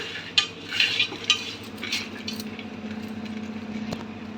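Whole spices (bay leaf, cinnamon, cloves, star anise, shahjeera, cardamom) stirred in a pot for pulao, giving a few scraping clinks early on that settle into a steady low sizzle and soft rustle, close and alone.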